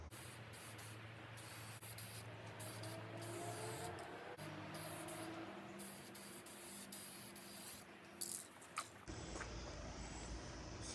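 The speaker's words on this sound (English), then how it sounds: "So we're gonna clean this panel off again, and we're gonna start spraying this" Spray primer hisses steadily from a can onto a cleaned Chevy Cruze body panel during a front-end rebuild, a continuous close broadband spray with brief pauses and a few small clicks near the end, no talking.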